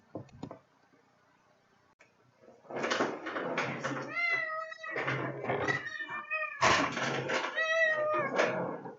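An 18-year-old house cat meowing close by, several drawn-out, wavering meows in quick succession after a brief rustle and a quiet pause.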